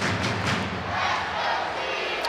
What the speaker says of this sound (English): Home crowd offering their encouragement.